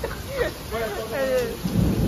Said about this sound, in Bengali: মনে হয় না বৃষ্টি আর কি কমবে